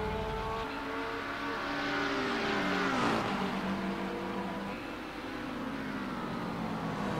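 A racing car engine in a sim racing game at Brands Hatch screams past, its pitch climbing then sweeping down as it passes, with other engines droning steadily in the background.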